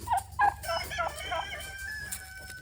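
Poultry on a farm, with turkey hens among them, make a string of clucks and calls, a couple of louder near squawks, then rising warbling crow-like calls over a low steady hum, with no talking.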